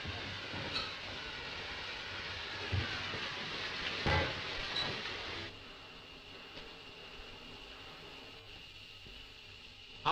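A train rumbles steadily through an enclosed space, with scattered clanks and rattles before the noise drops to a quieter, hissing hum.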